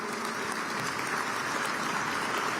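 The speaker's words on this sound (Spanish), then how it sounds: "para quienes pido un caluroso aplauso" An audience giving a warm round of applause at a public ceremony in Guatemala: dense, steady clapping from a crowd, moderately distant and even throughout.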